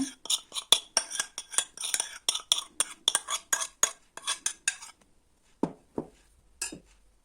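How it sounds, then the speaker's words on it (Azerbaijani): Metal spoon clinking repeatedly against a dish while adding a spoonful of butter onto çolpa dolma, a fast run of close, bright taps followed by a pause and a few duller scraping knocks. "Üzerine bir kaşık kərə yağı əlavə edirəm."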